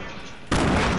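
A sniper rifle shot in an online multiplayer shooter game on PS4, one sudden loud report that cuts in halfway through a brief moment of background game noise.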